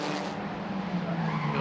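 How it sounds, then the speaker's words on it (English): Race car tires locking up and skidding under hard braking during a grand prix: a loud, sustained tire squeal with engine noise beneath, close and lasting under two seconds. "under braking, Kozlowska blocks her tires"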